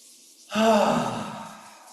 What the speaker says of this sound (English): a big breath in and out